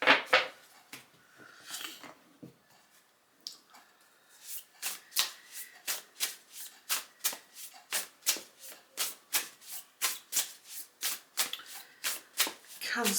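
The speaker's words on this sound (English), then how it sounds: "I'll just gather up these cards here." Tarot cards gathered by hand and then riffle-shuffled, a scattered rustle first giving way to a steady train of crisp, evenly spaced card flicks, close and fairly quiet with no talking.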